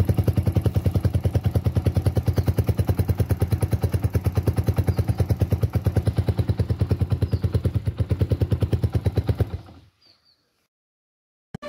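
A motorcycle engine pulses in a fast, even rhythm on a foggy, cold morning, then shuts off abruptly, leaving near silence broken by a single knock.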